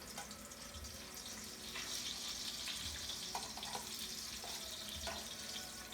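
Tortillas fry in a pan for chicken enchiladas, a steady soft sizzle and crackle with a few sharper pops, close and moderately quiet, no talking.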